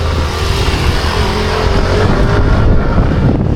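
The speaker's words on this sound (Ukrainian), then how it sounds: "То мопеди їздять." Mopeds drive past outdoors, their small engines making a loud, close, continuous buzzing drone that swells slightly near the end, with no voices.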